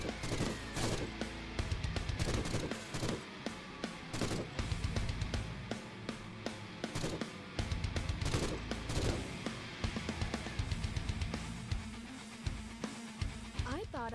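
Rapid volleys of gunfire from the raking fire ability in the dark first-person shooter Forgive Me Father, dense repeated bursts running nearly nonstop with loud booming impacts.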